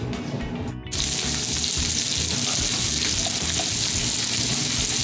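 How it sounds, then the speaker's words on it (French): Onions sizzle and fry steadily in hot olive oil in a pan, a dense crackling hiss that starts abruptly after a brief quieter moment and stays loud and close throughout. "puis on va faire revenir nos oignons"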